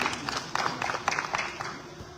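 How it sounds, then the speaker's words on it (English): An audience at a televised 2025 Ugandan presidential debate claps steadily, a dense patter of many hands filling the room at moderate loudness and tapering slightly toward the end. "A round of applause for you."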